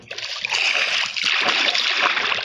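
A player character splashes into water in Minecraft, a bright, hissing slosh that surges in and carries on steadily, with faint game sounds beneath.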